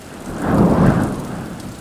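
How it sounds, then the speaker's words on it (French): Rain and thunder sound effect: a broad rumbling roar of a thunderstorm swells and peaks midway, then settles into steady rainfall, loud and close with no voices. "La pluie a commencé à tomber, le vent qui soufflait"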